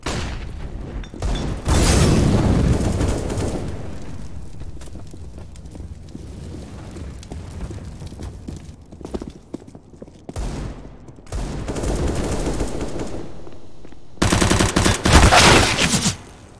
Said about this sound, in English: Let's throw in the flashbang.